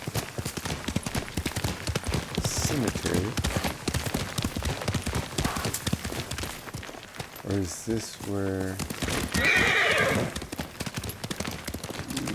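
Horse hooves clopping while riding in a video game, a steady run of hoofbeats with a neigh partway through, while people talk over the gameplay.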